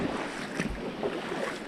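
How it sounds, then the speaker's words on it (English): River water flowing gently along a calm stretch of a river during a hike in St. Mary, Jamaica, a soft continuous rushing wash with light wind buffeting, faint and steady. "Now we're at a more gentle section of the river."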